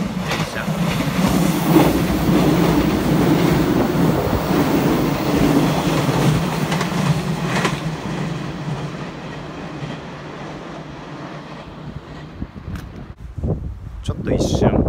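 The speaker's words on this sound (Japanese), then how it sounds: "電車が来る。" A Japanese commuter train rumbles and clatters past close by at a level crossing, loud and steady for several seconds before fading away into quieter surroundings.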